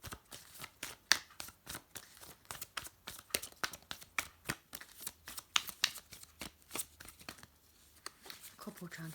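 Tarot cards being shuffled and drawn, a long run of quick, close riffling flicks and papery snaps at an uneven rhythm, softly audible and briefly pausing near the end.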